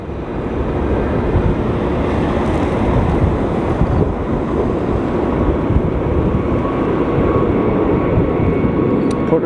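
EVA Air jet airliner at LAX, a steady broadband roar of engines filling the whole stretch, heavily mixed with gusting wind buffeting the microphone outdoors.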